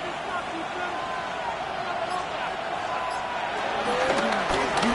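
A stadium crowd in a football video game roars steadily on 3rd down, a continuous broad wash of cheering that swells slightly toward the end, under a commentator's voice.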